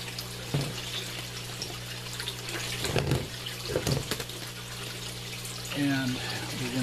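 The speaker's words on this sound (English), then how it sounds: "I like to have the probe on the side where the water is coming in, that it has maximum water flow." Water flows into an aquaponics fish tank, a steady trickling stream with a few splashy bursts and handling knocks.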